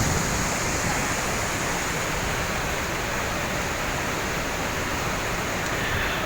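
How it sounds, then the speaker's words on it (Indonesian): Water roaring over the Krueng Mane irrigation dam on the Sawang river, a loud, unbroken broadband rush that stays constant from start to finish with no voices. "Gemuruh bendungan Krungmane."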